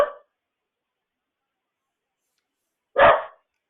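Two sharp dog barks, one at the very start and another about three seconds later, close and loud with silence between.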